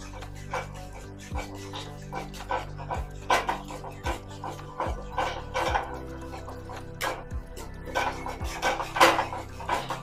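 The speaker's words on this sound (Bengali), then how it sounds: "এবার দুধটাকে ভালো করে নেড়ে নিচ্ছি যাতে ডালা না হয়ে থাকে" Milk mixed with milk powder being stirred in a pan for milk-powder gujiya sandesh, giving a steady run of scraping, clinking utensil strokes against the metal throughout, fairly close, with no talk.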